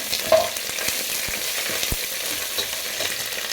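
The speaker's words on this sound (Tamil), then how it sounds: "இப்போ துருவின இஞ்சி சேர்த்துக்கலாம்" Grated ginger added to chana dal and curry leaves frying in hot oil for upma, a steady close sizzle with a few soft stirring taps and no talk.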